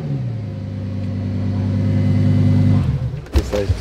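A 10-cylinder car engine at an outdoor car gathering holds a loud, steady, throaty drone close by, then cuts off abruptly, followed by a few scattered knocks.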